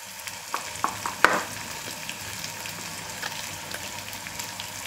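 Ground spices including chilli powder, turmeric, garam masala and coriander-cumin powder sizzling in a pan, a steady soft frying hiss with a few scraping clinks of stirring near the start.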